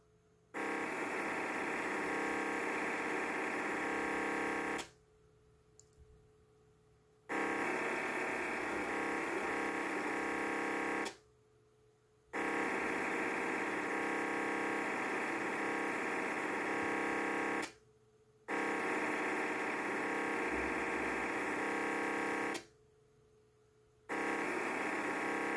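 Idle digital radio signal noise from a DSD+ voice decoder, a loud, steady buzzing hum that cuts in and out in long bursts of about five seconds, separated by short silent gaps.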